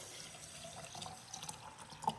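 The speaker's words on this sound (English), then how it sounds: "I'm gonna fill this with water" Water trickles and splashes faintly as it is poured into a jar of wheatgrass seeds, a quiet, uneven liquid sound with small drips and a slight clink near the end.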